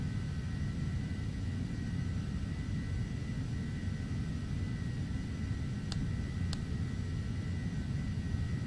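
An EMB-505 jet taxis along a runway in the Prepar3D flight simulator, a steady low engine rumble and broadband hiss at moderate level, with two faint brief clicks partway through.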